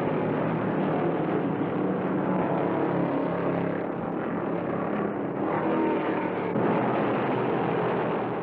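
A pack of NASCAR stock cars races at Bristol during the 1975 Southeastern 500, producing a continuous, dense roar of engines that swells and shifts slightly, loud and steady with no voices.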